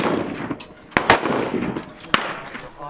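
A 50 caliber bolt action rifle at an outdoor shooting range fires, giving a few sharp loud reports with booming echoes, heard among other distant shots and faint background voices.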